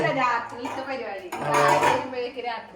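Idli steamer pots and plates being washed, with metal dishes clanking and scraping close by while a person talks over the clatter.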